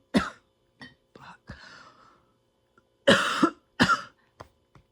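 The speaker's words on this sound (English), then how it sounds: "It's way harder to cough." A person coughs close up in a few separate bursts: one at the start, then a tight pair of harsh coughs a few seconds later, with breathy throat sounds between them.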